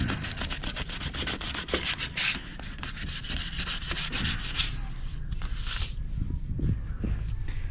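Hand sanding over Bondo body filler areas on a car being prepped for primer: continuous close rasping strokes, fast and rhythmic at first, then slower, broader rubbing passes, with no talk.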